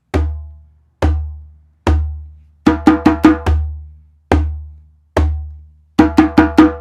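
A djembe hand drum plays a repeating pattern alone: three deep, resonant bass booms spaced about a second apart, then a quick burst of four sharp, ringing slaps, the sequence cycling twice at close range.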